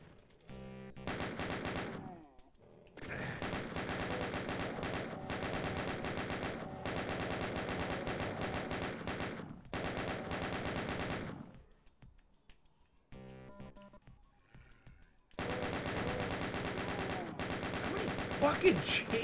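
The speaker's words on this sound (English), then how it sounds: "Is there another chain gunner I missed?" Chaingunner machine-gun fire in the PC game Doom II comes as long, loud, continuous bursts of rapid shots, broken by brief gaps and a quieter stretch before the firing resumes.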